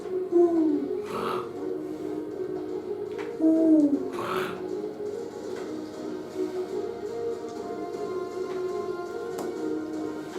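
A few soft owl-like hoots sound at intervals over a steady low droning background, with some faint higher chirps, in a video game.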